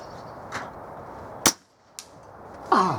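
Rifle shots at an outdoor shooting range striking a metal target, a few sharp isolated cracks with a ringing clang, spaced apart over a faint background hiss.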